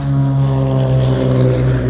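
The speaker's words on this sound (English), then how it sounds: "Dang airplanes." A propeller airplane drones overhead, a loud, steady engine hum with a prominent whine that stays constant through the short stretch, with no other sounds.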